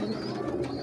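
Teddy-bug breeder pigeon held in a handler's hand, giving soft low cooing close by, steady and continuous with no talk over it.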